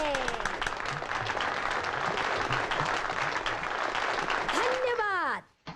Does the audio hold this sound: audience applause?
yes